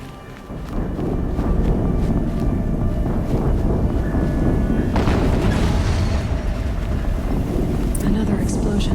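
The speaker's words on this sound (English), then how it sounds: "Another explosion." Explosion in the video game Horizon Zero Dawn: a loud, sustained booming rumble with gusty, windy noise, rolling on for several seconds with a fresh burst midway.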